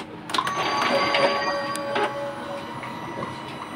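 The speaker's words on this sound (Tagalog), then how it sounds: "turn up daw yung printer" An Epson L565 inkjet printer powers on after a reset, giving a mechanical whir with clicks and a rising internal motor tone as its carriage moves, close by with no talk.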